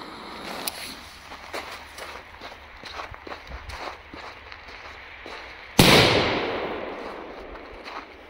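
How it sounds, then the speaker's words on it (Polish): A Polen Böller 2-gram firecracker, yellow version, set off loose outdoors, bursts with a single sharp loud bang and a rumbling echo that fades away, after several seconds of footsteps on the ground. "petardka Polen Biller 2 gramy, także testujemy i zobaczymy,"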